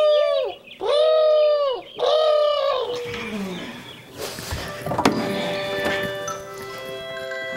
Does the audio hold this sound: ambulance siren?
no